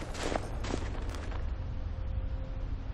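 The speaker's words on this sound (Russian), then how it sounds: "Землетрясение в Тамриэле." A deep, heavy earthquake rumble rolls through a Skyrim game scene, with a few louder thuds early on over a constant low roar that stays dense and steady for the whole stretch.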